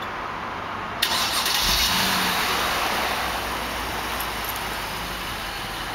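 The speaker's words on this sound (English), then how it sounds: "It will start." Mercedes GL550 SUV engine starting by remote start, with no one at the controls: a sudden crank at about one second settles into a steady, fairly loud idle rumble that holds to the end.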